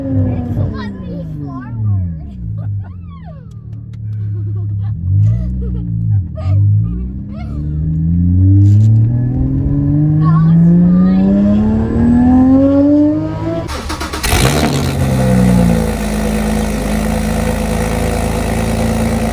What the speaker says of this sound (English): we fired up the Porsche 981 Cayman GT4.